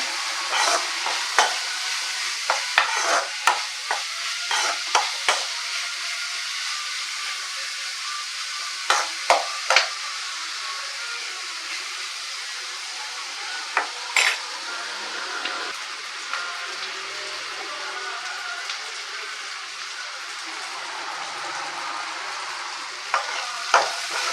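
Onions sautéing in a pan for mutton trotter curry, with a steady hiss under repeated clattering stirs that come in bursts and then ease into a quieter sizzle, close by, no one speaking.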